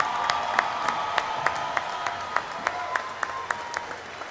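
A concert audience applauds a symphonic band at an open-air harvest festival show, a broad sustained wash of clapping from a large crowd with a few louder individual claps standing out.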